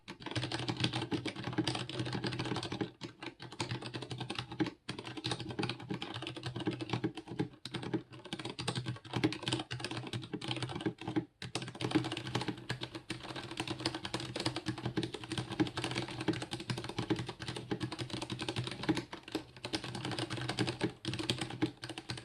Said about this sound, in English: I really do enjoy typing on this keyboard